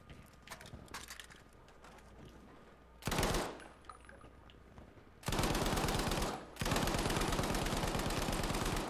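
Gunfire in the Battlefield 5 video game: bursts of loud rapid automatic fire, first scattered shots, then sustained dense machine-gun volleys with a brief pause before resuming.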